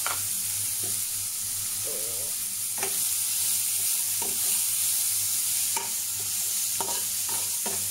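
Vegetables sizzle in a hot pan with a steady frying hiss, broken by repeated scraping stirs of a utensil, close and continuous.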